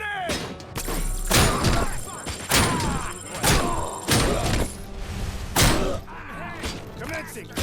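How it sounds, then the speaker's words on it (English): A grenade thrown in a tactical shooter game lands as a string of heavy thuds and sharp crashing impacts, spaced a second or so apart, with voices and game sounds around them. "Throwing grenade!"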